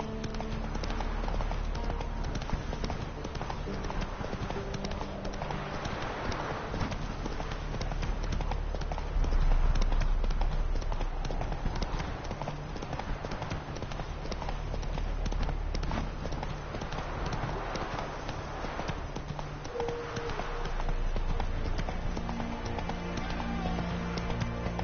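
Roach, the horse in The Witcher 3: Wild Hunt, gallops in a steady rhythmic clip-clop of hooves, close and continuous, under a constant wash of ambient game sound.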